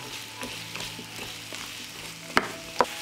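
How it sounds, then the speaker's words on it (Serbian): Bacon and vegetables fry together in a pan under a quiet, steady sizzle, with soft stirring scrapes and two sharp utensil knocks near the end. "I pržit ću sve zajedno 5 minuta."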